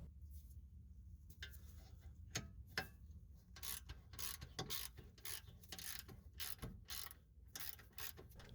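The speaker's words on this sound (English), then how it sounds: "I had to switch over to a short socket to have enough room to get the bolt out." A ratchet with a short socket backs out a brake caliper bolt on the rear Brembo brakes of a Cadillac CTS-V, making quiet, close bursts of clicking and scraping strokes with short pauses between them.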